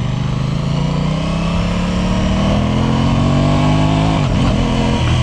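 An Aprilia Tuono 660 motorcycle engine runs in commute mode, a loud, close rev that climbs gradually and then dips sharply near the end.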